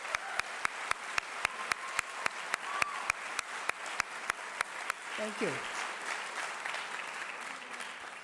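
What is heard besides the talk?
audience applause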